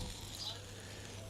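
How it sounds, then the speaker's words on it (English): Soft, steady sizzling hiss of meat juices on a hot grill, faint and continuous. "We got those juices sizzling."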